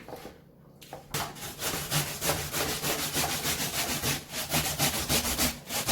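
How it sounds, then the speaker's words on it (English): A sweet potato grated by hand, giving a steady, rhythmic rasping scrape of quick repeated strokes, close and fairly loud, starting after a brief quiet moment. "So now I'm grating the sweet potato."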